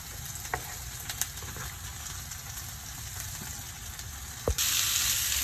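Peppers, onions and garlic frying in a pan, a steady soft sizzle with a few light clicks and stirring knocks, close by and fairly quiet, rising to a brighter hiss near the end.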